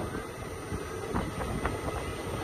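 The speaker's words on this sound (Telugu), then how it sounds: "పెద్ద లోకల్ ట్రైన్" A long 17-coach local train rolls past on the line near Yelahanka, a steady rumbling, clattering roar with rhythmic knocks of wheels over rail joints, fairly loud and continuous.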